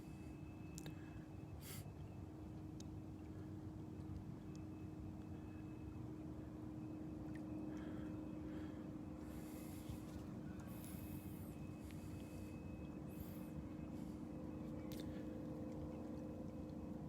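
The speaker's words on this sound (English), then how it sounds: "An airplane going overhead." An airplane passes overhead at Delnor-Wiggins beach, a faint, steady distant drone lasting throughout, beneath soft surf wash and a few scattered brief clicks and rustles nearby.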